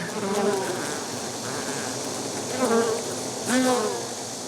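Honeybees buzz close by, a dense droning hum with individual insects rising and falling in pitch as they pass near, steady throughout.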